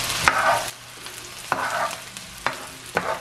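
Fried rice ingredients sizzle in a hot pan while a utensil scrapes and stirs in four distinct bursts, each stroke briefly stirring up louder frying.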